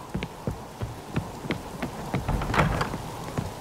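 Moderate rain patters steadily in a scene from The Witcher 3, with soft scattered thuds and taps over the hiss.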